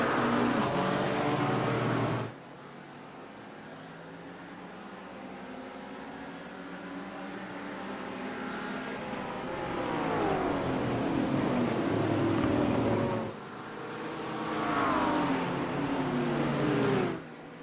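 Racing cars in a NASRA endurance race, a McLaren, several BMWs and a Porsche, roar off at the green flag, engines rising and falling in pitch as they sweep past in waves, loud and near, with brief lulls between bursts.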